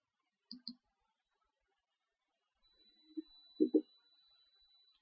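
A computer mouse clicks while signing in on the wix.com website: a quick close double click, a pause, then a soft click and two louder clicks in a row against near silence.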